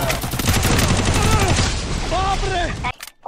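In the Free Fire video game, rapid bursts of gunfire rattle loudly and closely for about three seconds, mixed with a talking voice, before cutting off abruptly.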